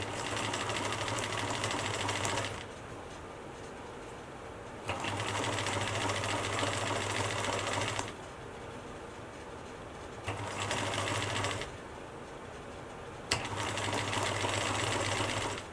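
Sewing machine stitching picot elastic onto underwear fabric: loud, steady, close mechanical whirring in four runs of a few seconds each, separated by short quieter pauses.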